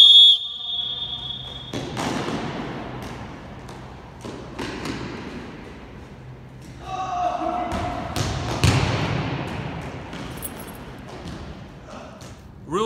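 A sharp whistle blast starts a dodgeball game, followed by thuds and bouncing balls, running footsteps, and voices in an echoing gym.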